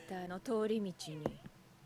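A cat in the One Piece anime meows a few times in a row, clear and close, with a voice talking over part of it.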